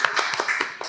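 A few people clap on a podcast set, a short run of about five distinct, close hand claps spaced unevenly across one second.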